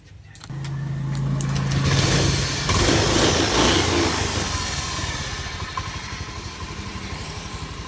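Honda Beat fuel-injected scooter engine started and running after an ECU loose-contact repair: a close, steady putter that swells to a louder rev around two to four seconds, then settles back into an even idle.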